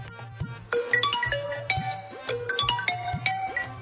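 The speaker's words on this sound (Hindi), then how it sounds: "ओए सुनो, मोबाइल की घंटी फिर बज रही है।" A mobile phone ringtone plays a bright, repeating electronic melody of short tonal notes over a steady low pulsing beat, fairly loud and continuous, with no talking.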